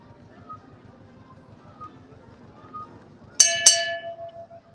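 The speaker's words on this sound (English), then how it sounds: "I just like ringing the bell." A bell on Main Street at Disneyland rings out twice in quick succession, loud and bright, ringing on over a quiet background of low rumble and faint crowd noise.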